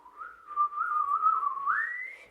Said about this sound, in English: Overtones are when you can hear flute-like whistle sounds that are sounding the harmonic series above the fundamental tone.